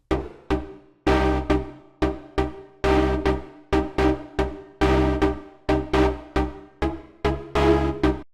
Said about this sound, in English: This first one is called backstep, and the velocity of the sound controls the decay, which can sound like this.